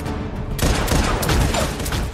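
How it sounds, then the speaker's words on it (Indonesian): Loud, dense gunfire erupts and continues in a sustained volley, rapid shots blending into the roar of a shootout with mercenaries in the film Taken 2. "terjadi aksi tembak-tembakan"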